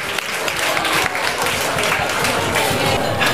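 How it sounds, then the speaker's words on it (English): Audience applauding at a reception, a dense and steady wash of many hands clapping nearby, sustained at an even loudness throughout with no voices standing out. "Why don't we give everybody a round of applause for the hard work?"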